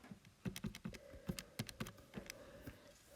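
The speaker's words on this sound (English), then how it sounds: "I'm going straight onto the calculator and typing it in." Fingers tap out a sum on calculator keys, a quick irregular run of crisp, close clicks and taps in small bursts, with no talking.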